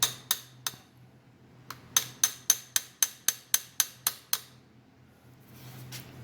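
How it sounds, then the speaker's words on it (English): Sharp metallic taps on the transfer drum ring cam of a Ryobi 3302/3304 offset press: three quick close knocks, a pause, then a steady run of about nine evenly spaced taps, with no talk. "I'm just gonna grab in that little hole right there and just tap it."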